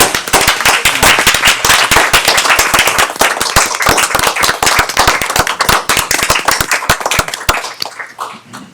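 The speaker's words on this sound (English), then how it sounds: "I would like to have the board join me in with a standing applause for this staff of ours" Standing applause from a village board at an evening meeting, loud and close, made of sharp dense claps that fade out near the end.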